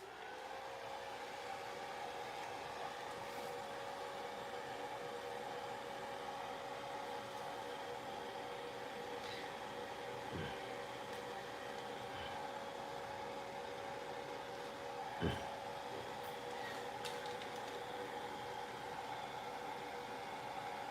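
A hair dryer drying paint during a live flower painting session, a steady continuous whooshing hum with a tonal whine, running without pause, plus a couple of faint knocks.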